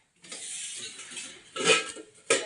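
Dishes and pots clatter and scrape as they are scrubbed and washed during household cleaning, in a steady stretch of rubbing followed by two louder clanking bursts, with no talking.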